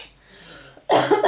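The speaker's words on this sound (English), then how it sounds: "I have a little cough." A single short cough bursts out loudly and close after a near-silent moment, followed by a brief rough tail of throat noise.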